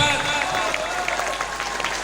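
Applause from an audience at a religious charity auction, dense steady clapping mixed with crowd murmur and voices, moderately loud throughout.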